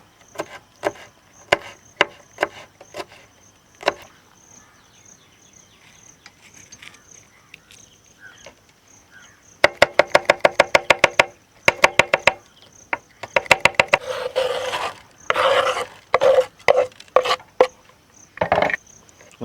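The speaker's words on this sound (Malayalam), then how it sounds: "ഇനി നമുക്ക് പച്ചമുളക് കുറച്ച് കട്ട് ചെയ്യണം" Knife chopping green chillies on a wooden board during a village-style cooking session, with scattered single taps early, then rapid bursts of close, crisp chopping strokes, and a steady insect-like whine in the background.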